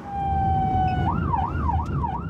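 An ambulance siren leaving the Salpêtrière hospital sounds loud and close, holding a steady tone before switching to a rapid rising-and-falling wail.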